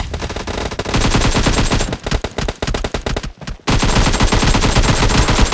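Rapid automatic gunfire from an AKM rifle in the mobile battle-royale game PUBG Mobile, loud and close, sounding as dense sustained bursts with a brief pause before firing resumes.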